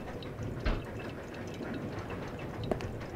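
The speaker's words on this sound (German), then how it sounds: "Die Spüle läuft über." An overflowing kitchen sink in Resident Evil Zero lets water run in a steady, fairly faint wash, with a couple of small clicks and splashes along the way.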